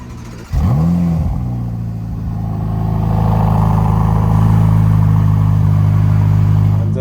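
A Ferrari supercar engine on a drive around London starts up with a sharp rev, then settles into a loud, steady droning growl heard from close by, with no talking.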